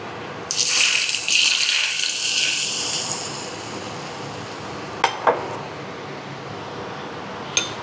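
Hot oil at about 200 degrees is poured over raw chicken wings for steamed black bean sauce wings, giving a loud, hissing burst of sizzling for about two and a half seconds that fades into a few faint clinks.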